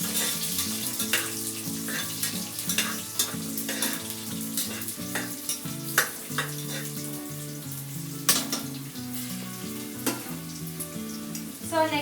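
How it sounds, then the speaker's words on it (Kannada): Green chillies frying in a pan for chicken biryani give a steady, close sizzle with frequent sharp crackles and pops, along with scraping and stirring sounds from the pan. No one speaks. "ನೆಕ್ಸ್ಟ್ ಇವಾಗ ಹಸಿಮೆಣಸಿನ್ಕಾಯಿ ಹಾಕೊಳ್ತಾ ಇದ್ದೀನಿ. ಚೆನ್ನಾಗಿ ಫ್ರೈ ಮಾಡಿ."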